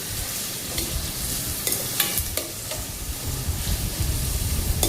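Onions frying and being stirred in a pan for Goan egg chilli, a steady close sizzle broken by sharp scrapes and clinks of a spoon against the pan, with no voices.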